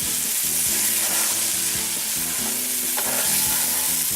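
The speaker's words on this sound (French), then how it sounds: "pour bien réussir son risotto, il ne faut pas arrêter de tourner" Risotto with porcini mushrooms is stirred steadily in a hot pan, a spoon scraping in a regular rhythm over a continuous close sizzle of frying, with no voices.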